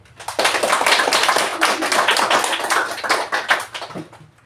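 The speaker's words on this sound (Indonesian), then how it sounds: "Tepuk tangan satu kali lagi untuk kita semua ya." Students in a classroom give one more round of applause, a burst of many hands clapping loudly for about four seconds, starting abruptly and tapering off.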